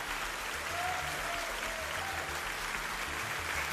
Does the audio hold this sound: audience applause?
yes